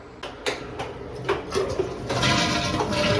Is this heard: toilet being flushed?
yes